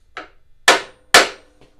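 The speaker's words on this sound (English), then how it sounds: "I think I'm going to try a brass hammer instead of a steel one." A brass hammer strikes parts on a Snapper RER riding mower during a rebuild, three sharp, ringing blows: a lighter first tap, then two loud hits about half a second apart, followed by a faint knock, heard close up.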